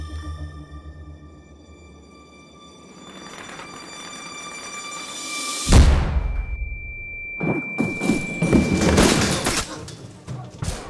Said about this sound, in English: Hey, shots fired.